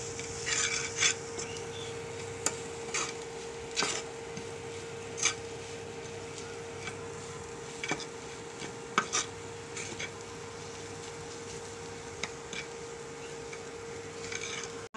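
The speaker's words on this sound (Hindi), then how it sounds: "हल्दी भी भुन लाँगे चंगी तरह" Ground turmeric and garam masala roasting in a pan for paneer bhurji, a soft steady background sizzle with occasional clinks and scrapes of a spoon stirring against the pan, under a constant low hum.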